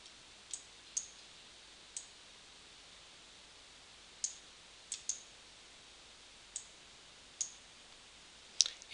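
Computer mouse clicks while working in Outlook, sharp, close and quiet, about a dozen single clicks spaced irregularly over a near-silent background.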